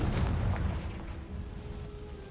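Confringo fire spell blasting in Hogwarts Legacy, a deep rumbling explosion that rolls on with a low booming tail and crackling debris throughout.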